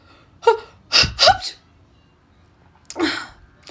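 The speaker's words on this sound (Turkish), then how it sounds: "Uf ben hapşıracağım şimdi." A single sharp sneeze from a dusty room bursts out after a couple of quick gasping breaths, followed by a short exhale; close and loud.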